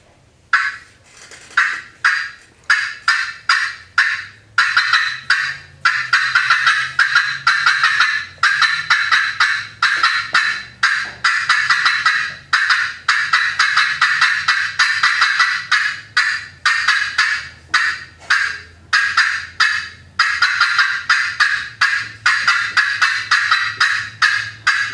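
A friction turkey call played at the 2016 World Friction Division competition imitates an excited hen's cutting: loud, sharp, rapid clucks in quick irregular bursts, near and continuous throughout, with no talking.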